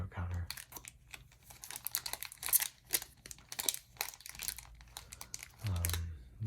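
Foil wrapper of a pack of Topps 2023 MLB baseball trading cards crinkles and crackles up close in quick irregular bursts, with soft tearing and rustling between louder handling noises.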